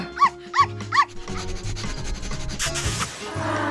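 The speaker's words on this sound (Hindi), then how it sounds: "ये मेरा कुत्ता है।" A dog barks three quick times up close, followed by rubbing and scraping noises with soft background music.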